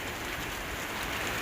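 Steady rain pours during a tornado near Stanhope and Jewell, a dense, even hiss of falling water filling the clip without a break and no voices over it.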